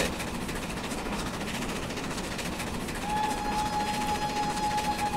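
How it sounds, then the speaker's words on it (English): Steam-era express train running in Train Simulator on the 1950s Riviera Line near Dawlish Warren, a steady rumbling roll with a sustained whistle-like tone joining partway through, continuous and fairly even in level. "hopefully you can hear the train alright"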